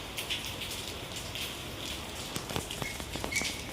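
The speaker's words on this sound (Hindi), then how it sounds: "बहुत तेज बारिश हो रही है गाइस" Heavy rain falls steadily outdoors, a dense continuous hiss of drops with a few sharper patters and ticks near the end, no voices.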